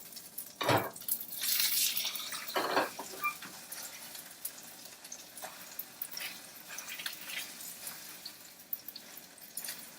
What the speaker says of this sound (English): our salmon is ready to flip